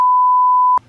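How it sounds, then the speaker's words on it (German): A single steady censor bleep covers swearing, a pure electronic tone lasting under a second before it stops sharply. "piepst das mal raus"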